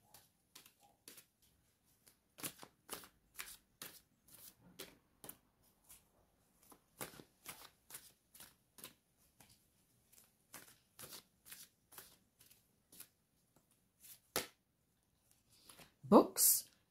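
A deck of angel oracle cards being shuffled, with soft, quiet riffling and flicking in irregular bursts over about seventeen seconds, close but faint, ending in a slightly louder knock of the cards.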